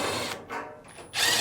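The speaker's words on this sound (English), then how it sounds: "start by removing the 2 Phillips screws on the front" A power driver whirs in short bursts, stopping and starting, while removing the two Phillips screws from the front panel of a Fisher & Paykel clothes dryer. It is close and moderately loud, with no talking.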